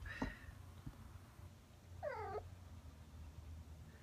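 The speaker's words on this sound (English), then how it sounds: "My cat is climbing up the wall right now." An indoor pet cat, agitated by a squirrel outside the window, gives a short sharp cry and then a longer wavering meow, faint and close over a low background hum.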